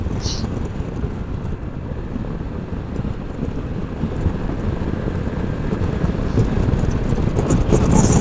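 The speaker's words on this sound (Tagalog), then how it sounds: "Woo! Hangin!" Strong, steady wind on a ride along Marilaque roars and buffets the microphone, a dense low rumble that holds and swells slightly toward the end.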